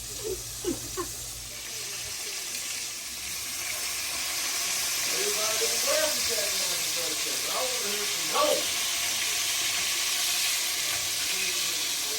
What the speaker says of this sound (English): we are finished frying the steaks